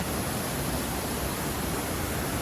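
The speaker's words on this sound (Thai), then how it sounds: "ต้องพูดเสียงดังหน่อยเพราะว่า น้ำดังมาก" Loud, steady rushing of a stream fills the scene, a dense continuous roar of fast water close by.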